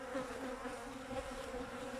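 Honey bees drone at the hive in a steady, soft, continuous hum with faint wavering, close by and without talk.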